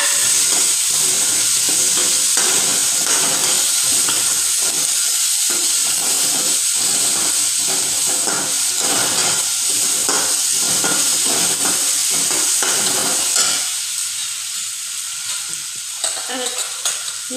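Tomatoes sizzling in hot oil in a pan for poha, a loud steady frying hiss broken by repeated scraping stirs, easing off and quieting toward the end.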